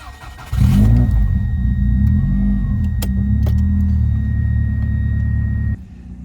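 A 1998 Subaru Impreza WRX STI GC8 drives on a road, its engine a loud, close, steady rumble from the cabin with a light rise in revs, ending abruptly with a drop in level.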